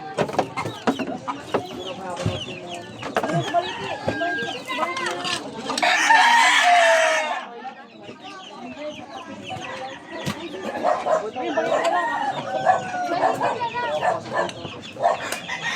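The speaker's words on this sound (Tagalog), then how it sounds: "may nangingitlog ng manok diyan" Chickens cluck continuously nearby, with a rooster crowing loudly partway through, while people talk in the background.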